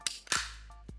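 Two sharp snapping cracks, each a quick plastic crunch, as a PVC pipe cutter cuts, with a faint click near the end and a low hum underneath.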